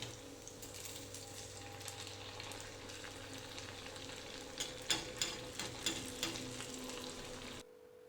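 Potato patties coated in wheat flour frying in hot oil give a steady, close sizzle, with a few sharper crackles and taps partway through before the sound cuts off near the end.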